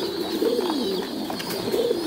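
Thai Titan pigeons kept for breeding coo in low, rolling calls that repeat close by, several soft throaty phrases overlapping.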